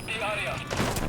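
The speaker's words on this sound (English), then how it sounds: "Oh, they're shooting at me." Enemy gunfire in the video game Metal Gear Solid V: The Phantom Pain, a quick burst of sharp cracks near the end, following a stretch of tonal game sound at moderate loudness.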